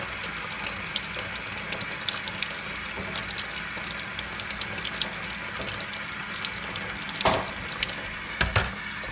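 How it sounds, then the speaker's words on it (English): Tap water runs steadily over watermelon seeds in a strainer, a continuous close splashing with a few brief clatters near the end. "Run some water over them to rinse them real good."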